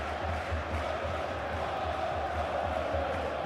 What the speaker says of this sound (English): The supporters in great voice, and there's a real sense of anticipation in the air.